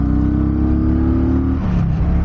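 A Kawasaki Vulcan 900 Custom motorcycle engine drones loudly and steadily nearby, its pitch shifting slightly as it revs, with a brief dip before settling again.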